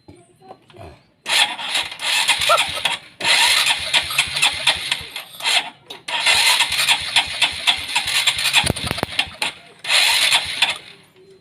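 A Honda Supra X 125 motorcycle with a hard-starting carburetor fault cranks and fires repeatedly, its engine catching and revving in bursts separated by brief stalls and pauses, close and loud.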